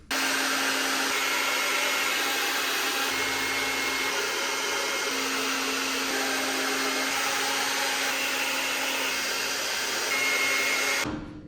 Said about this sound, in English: Put your hairdryer on hot and high, hold it about 4 or 6 inches away